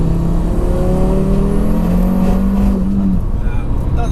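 A tuned 700 bhp Audi RS3 accelerates hard from inside the cabin, its engine note rising steadily over about three seconds then dropping away, loud and continuous with road roar beneath and a voice talking over it.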